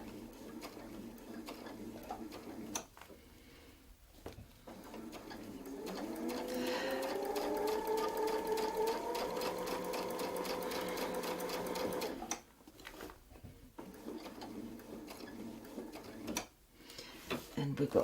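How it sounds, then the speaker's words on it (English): Domestic sewing machine stitching a seam with a Westalee ruler foot, a steady whirring buzz lasting several seconds and then stopping, with quiet clicks and talk before and after. "We're going to stitch out again."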